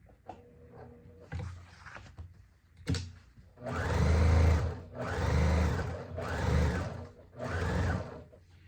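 Sewing machine stitching folded fabric with a short stitch length, running in four loud close bursts of steady whirring separated by brief pauses, after a few quieter handling clicks and knocks.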